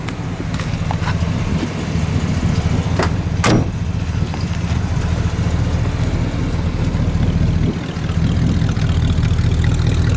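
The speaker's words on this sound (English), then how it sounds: "It's a great running Impala. Again, 275 horsepower, 327, factory 4-speed." A 1966 Chevrolet Impala convertible with a 275-horsepower 327 V8 and factory 4-speed runs at a steady idle, a continuous low engine rumble close by, with a couple of brief sharper sounds early on.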